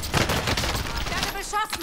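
Rapid bursts of gunfire from the video game Call of Duty: Modern Warfare, dense and close at first, then thinning out as a voice speaks briefly near the end.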